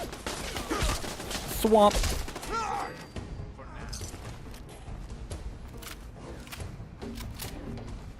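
Automatic turrets firing in Fallout 4 on the Far Harbor island: rapid bursts of gunfire crackling in clusters, loudest early on, then thinner scattered shots, with someone talking over them.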